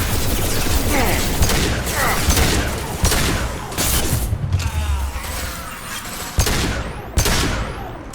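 Concussive shot weapon fired in Mass Effect 2, heard as sharp bursts and mechanical clatter over dense game combat noise, with a few distinct loud blasts standing out near the end.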